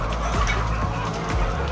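Arab laying hens cluck and peck at their feed in a coop, making a dense, continuous chorus of nearby fowl noise with occasional lower clucks.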